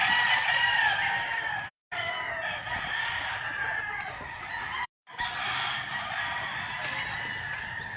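A Sweater gamefowl rooster crows loudly and up close in the morning, with long strained calls broken by short pauses. Other fowl cluck faintly behind it.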